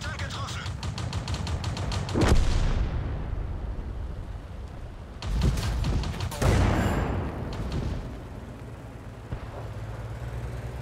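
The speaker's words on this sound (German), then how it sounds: "da schießt eine Arti auf mich" Artillery shells land on the player's tank in World of Tanks, with several heavy booming impacts and rumbling aftershocks breaking through steady engine noise.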